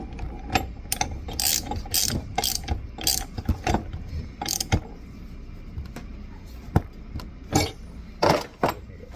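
A ratchet wrench tightens bolts on the steam manifold of a Steris V120 Century sterilizer, giving bursts of rapid close metallic clicking with short pauses and a few knocks, fairly loud and with no talking.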